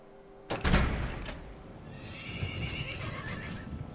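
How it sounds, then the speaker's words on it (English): A horse in the Oblivion video game whinnies loudly after a sudden thump, then its hooves clip-clop at a walk, close by, with no talk over it. "so my horse, Prophet, should be here."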